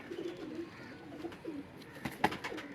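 Pigeons kept by a fancier coo softly in repeated low, rolling phrases, faint and close, with a few brief clicks and rustles near the end.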